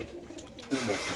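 Racer pigeons coo in a loft, a low soft murmur that swells louder toward the end, with no voices over it.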